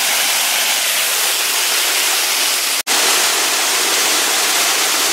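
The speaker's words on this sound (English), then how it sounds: "There's the water crashing down below me, and I can't see most of the waterfall." A waterfall pours down below a small green cave, a loud, continuous broadband roar of crashing water that fills the whole stretch, broken only by a single brief dropout.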